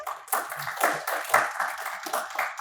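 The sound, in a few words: audience applause for a panelist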